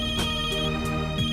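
A telephone rings with a steady electronic ringtone, repeating pulsing tones in a loud, continuous pattern that fills the short moment without any talking.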